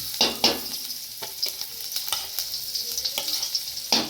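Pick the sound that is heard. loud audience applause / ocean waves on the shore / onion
onion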